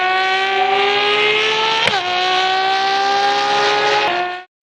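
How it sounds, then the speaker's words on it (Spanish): A V12 supercar engine revs hard and loud, holding a high sustained pitch with two sharp gear-shift dips before cutting off abruptly. "El motor V12."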